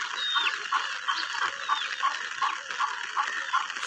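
Free-range chickens and roosters kept outdoors in the rain, with steady repeated clucking from a small flock at moderate distance over a constant hiss of rainfall.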